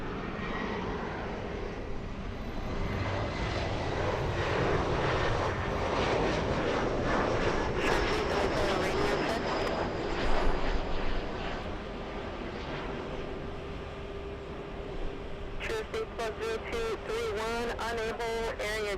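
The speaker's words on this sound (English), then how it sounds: "Asiana 204, an A380, and Korean 11, which is a 747-8. They're going to be landing within a few minutes of each other." An Airbus A380 and a Boeing 747-8 landing at LAX a few minutes apart, a sustained loud jet engine roar that swells and fades, with radio voices talking over it.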